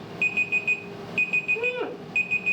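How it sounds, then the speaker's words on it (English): A loud kitchen timer alarm goes off in three bursts of rapid high electronic beeps separated by short pauses, heard close up with a brief tonal sweep in the middle gap. "Pardon our timer."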